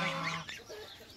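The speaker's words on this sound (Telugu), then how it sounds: "బాతులు కాదు హంసలు." A loud, nasal swan honk rings out at close range, followed by softer grunting calls as the sound trails off.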